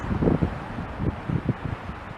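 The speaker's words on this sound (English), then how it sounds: "But here is how windy it is" Gusty wind on an Antarctic island buffeting the microphone in low, uneven rumbling bursts, with no voices.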